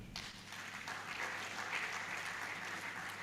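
Steady applause from an audience at a project management conference, a continuous dense patter of many hands clapping throughout, moderately distant and fairly quiet, with no one speaking over it.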